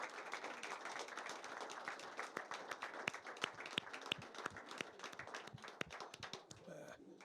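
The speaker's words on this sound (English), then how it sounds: "let's give a big round of applause" An audience claps for a man working the sound booth at a live music show, a faint, scattered round of applause with distinct individual claps spread over several seconds.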